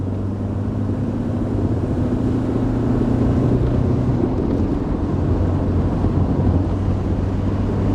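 A Mercedes 190 W201 diesel saloon with very high mileage pulls hard under acceleration, its steady engine drone and road rumble filling the cabin loudly and evenly throughout.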